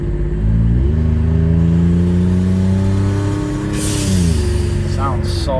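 Toyota Sienna minivan, rusted out and overdue for an oil change, its engine revving up and holding a steady pitch before dropping back, loud and close, with wind buffeting the microphone.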